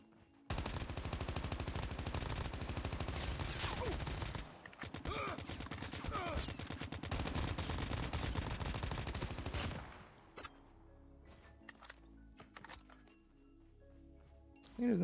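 Nonstop hip-fire gunfire in Call of Duty Mobile, loud dense automatic bursts that run for about ten seconds, then stop into quieter scattered game sounds, with no talk.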